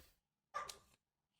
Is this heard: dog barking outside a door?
yes